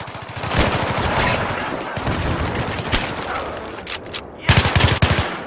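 Gunfire in a competitive tournament video game, with sharp shots and a rapid burst of rounds across the span, loud and close, with a dense cluster of cracks near the end.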